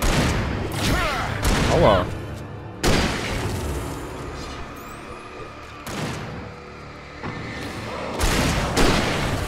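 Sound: gunshots in a video game

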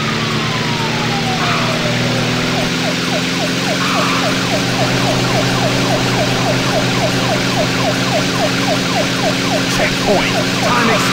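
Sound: police car siren in racing video game

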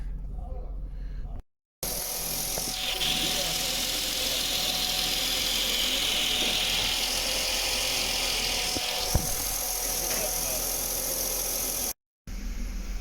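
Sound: Mercedes W140 S320 engine running after cold start

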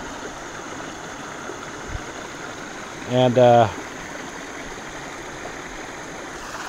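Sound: small river stream flowing past old stone structure

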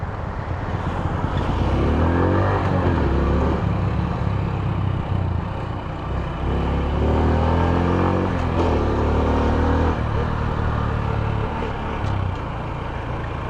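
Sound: motorcycle engine pulling away after shifting into gear

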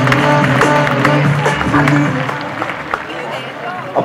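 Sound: applause at show jumping event

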